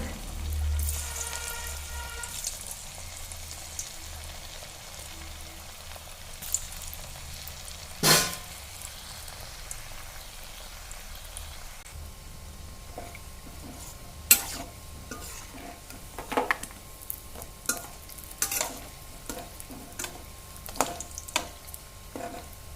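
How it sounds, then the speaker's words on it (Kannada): Bhakarwadi pieces dropped one by one into hot oil, with a soft steady sizzle, occasional stirring clinks and scattered crackles, no one talking. "ನಿಮಗೆ ಕರಿದು ತೋರಿಸ್ತೀನಿ ನೋಡಿ ಸೊ ಕಾಶಿ ಒಂದೊಂದು ಹಾಕಬೇಕು"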